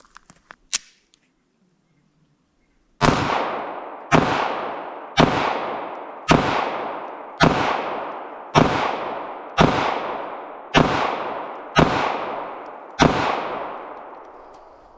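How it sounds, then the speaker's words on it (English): Ten sharp, evenly spaced shots from a Bodyguard 2.0 .380 pistol firing hollow point rounds, loud and close, each crack ringing out briefly, after a few faint clicks of handling. "let's go ahead and run 10 rounds through this thing with the hollow points and see how it performs"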